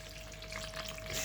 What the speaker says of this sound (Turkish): beşer bardak şekerimi bir bardak suyla kaynatıyorum